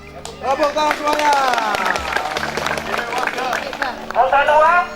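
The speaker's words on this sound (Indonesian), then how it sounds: "Tepuk tangan semuanya." A group of junior high students claps hands together outdoors, bursts of clapping mixed with lively voices and shouting, close and busy.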